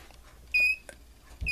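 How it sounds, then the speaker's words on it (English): Two short, high electronic beeps sound close by from an Etek multimeter's non-contact voltage sensor near a live power bar, the first longer and the second cut short, against near silence. "You hear it makes a beep, and as you get closer, it senses the voltage."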